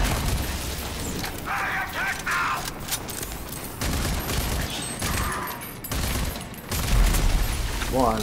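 Gunfire in the video game Rage 2, with dense volleys of shots and booming impacts over a loud, busy game soundscape, continuing throughout with no clear voices.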